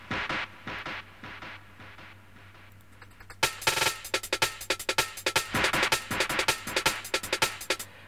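Breakbeat drum loop run through a chain of plugins for an echoey, effected character: a quieter washed section gives way at about 3.4 seconds to loud, rapid, punchy hits with splashy highs, with no talking.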